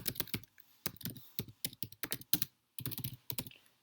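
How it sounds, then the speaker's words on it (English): Keys clatter on a computer keyboard in quick irregular bursts of clicks with short pauses between, close and distinct with no talking. "I'm going to type in"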